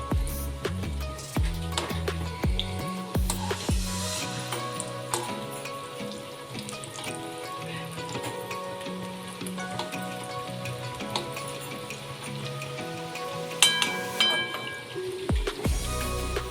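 Kadhi pakoras frying in hot oil in a dhaba-style kitchen, a close crackling sizzle with occasional clinks and scrapes as they are flipped, no talk.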